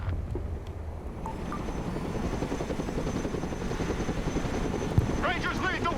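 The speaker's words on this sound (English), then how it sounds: "Helicopter is mission ready." A military helicopter in the Broken Arrow strategy game whirs with a steady low rotor thump throughout, joined near the end by a short burst of radio-style game voice.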